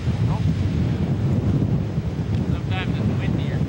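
Strong prairie wind buffets the microphone in a steady roar, with faint water sounds and brief distant voices underneath.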